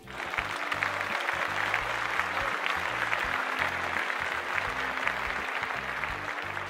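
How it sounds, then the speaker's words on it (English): Sustained applause from an audience of second-year students fills the whole stretch as a dense, even wash of clapping, with a faint murmur of crowd noise beneath it, steady from start to finish. "So give yourselves a round of applause."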